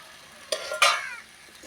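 Tomatoes frying in a home kitchen pan, a soft sizzle broken by two quick stirring scrapes close by, no talk.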